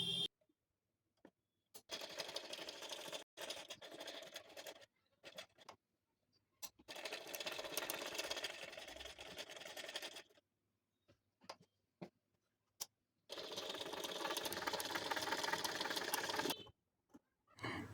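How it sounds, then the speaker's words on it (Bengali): Sewing machine running a line of stitches over a blouse neckline in three separate bursts of rapid clattering, each a few seconds long, with quiet pauses between them. The machine is close and no one is talking. "এবার এই গলা কাটিংয়ের উপরে একটি রান সেলাই দিয়ে দেব।"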